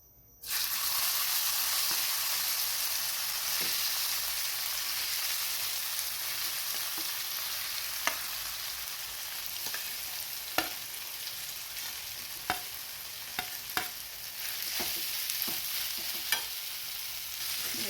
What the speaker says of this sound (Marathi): हे तेल गरम झालेलं आहे आता यामध्ये आपल्याला हा राईस घालायचे